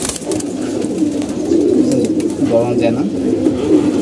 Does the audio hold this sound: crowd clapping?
no